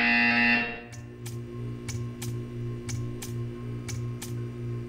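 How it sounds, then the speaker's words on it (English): Short electronic buzzer pulses from the video game Portal 2 repeat in a steady rhythm, about eight evenly spaced bursts over a low ambient hum, following a louder tonal sound at the start. "You will hear a buzzer."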